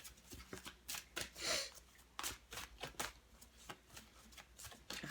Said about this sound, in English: So I'm shuffling the cards now.